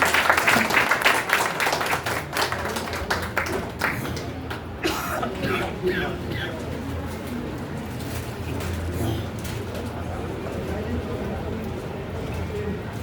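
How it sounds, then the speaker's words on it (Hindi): Audience at a Hindi book-launch event applauding, loud close clapping at first that thins and fades over several seconds into quieter room noise with scattered claps. "आप इनके सम्मान में एक बार बहुत जोरदार तालियां बजाएं"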